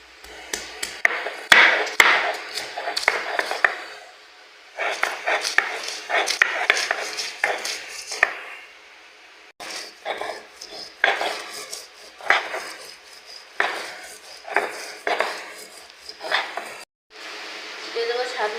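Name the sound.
mashing green chilies and onion for raw mango bharta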